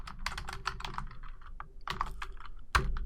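Rapid, close keyboard clatter as %appdata% is entered on a computer keyboard, a burst of keystrokes, a short pause, then a few more taps ending in one firm key press.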